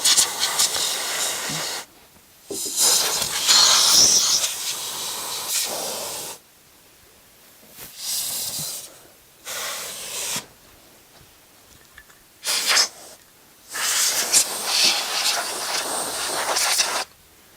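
Several sharp bursts from a compressed air duster hiss loudly as it cleans the bottom of a PC case, each lasting a second or two, separated by short silences.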